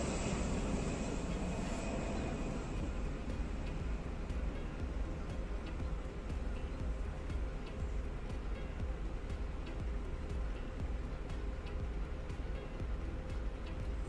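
A Fenix A320 airliner in a flight simulator departs with a steady, loud jet-engine roar. A high whine fades after the first couple of seconds, and a constant low rumble carries on.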